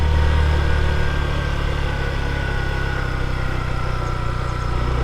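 A vehicle engine strains in first gear on a steep mountain road toward Keokradong, a steady loud drone with deep low rumble and no voices.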